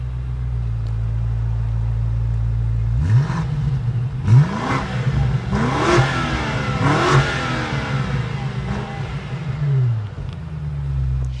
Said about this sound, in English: quad exhaust outlets pumping out an amazing exhaust sound